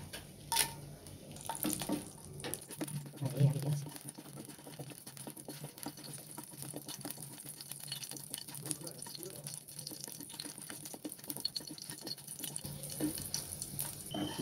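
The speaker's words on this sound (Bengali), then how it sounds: "অ্যাট ফার্স্ট আমি মরিচ পেঁয়াজগুলো একটু ভেজে নেব" Chilies and onions fry in a pan on a stove, giving a steady, close sizzling hiss that runs for the whole stretch with a few louder pops near the start.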